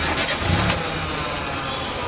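A car engine cranks and catches after a new battery is installed, a brief churning start that settles into a steady, close idle rumble.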